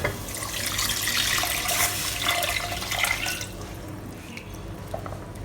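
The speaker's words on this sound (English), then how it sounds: "I'll be adding in 800 milliliter of water." About 800 milliliters of water pours into dried curry paste for lontong curry vegetables: a loud, continuous splashing stream for roughly four seconds, then tapering to faint drips.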